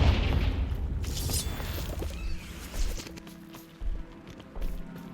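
A Confringo fire spell blasts in Hogwarts Legacy, a deep booming burst at the start followed by rumbling thuds and a few smaller impacts, with no talking.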